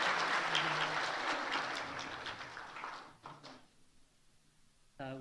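A church congregation at a Sunday service claps in celebration of a newborn, with loud, dense applause that gradually thins and fades out toward the end, leaving near quiet before a voice begins.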